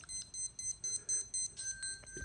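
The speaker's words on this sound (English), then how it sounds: "Let me turn off this alarm here" Alarm beeping from an Alexa smart speaker, a quick repeating series of faint, thin electronic beeps in a quiet room.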